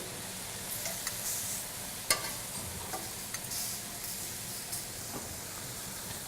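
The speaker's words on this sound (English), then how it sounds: "Let me turn my shrimp." Shrimp skewers sizzle steadily on a grill while being turned, a soft continuous frying hiss with a few small clicks and taps from handling, fairly quiet and close.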